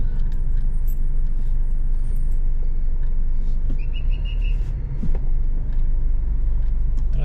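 Road traffic in Neo Calapan near a mall, with cars passing under a steady engine rumble, plus faint bird chirps and a brief jingle. There is no talk.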